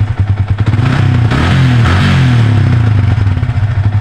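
A Yamaha Vixion motorcycle engine runs close by with a steady, loud, low throbbing rumble that holds throughout, with a faint mechanical clatter on top.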